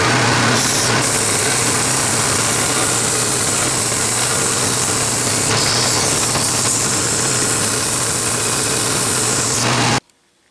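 A belt sander fitted with a nearly new, sharp 80 grit belt grinds metal while making a hand vise, a loud, steady broadband roar running continuously for about ten seconds before stopping abruptly.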